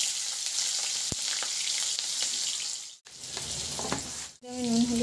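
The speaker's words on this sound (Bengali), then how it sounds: "একটু আলু ভাজবো বলে মাংসতে দেবো, সেই আলুগুলো আলুগুলো আমি ভেজে নেব।" Potatoes fry in white oil with a loud, close, continuous sizzle and crackle, a sharp tap early on and two short dips as the pan is disturbed, then a brief voice.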